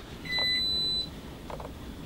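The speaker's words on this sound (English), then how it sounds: "So you would have heard all the beeps, because that's because the microwave would have turned on" A caravan's inverter switches on and a microwave gives a sharp, close electronic beep lasting under a second, followed by faint clicks and no talk.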